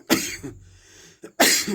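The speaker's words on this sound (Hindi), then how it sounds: "हमको थोड़ा खांसी हो गया" Two sharp, close coughs with a short pause between them, rough and throaty.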